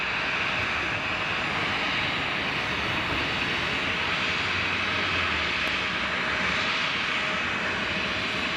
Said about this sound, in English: Right, Jet2 is just lining up.